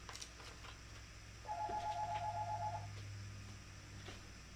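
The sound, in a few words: telephone ringing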